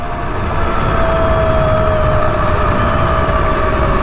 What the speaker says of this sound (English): I think it's mostly the chain that's making the noise.